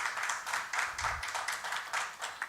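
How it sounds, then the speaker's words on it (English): An audience at a lecture applauds with steady, moderately distant hand clapping, a continuous pattering wash with slight swells in intensity throughout. "It's very nice and interesting that all of us are clapping hands"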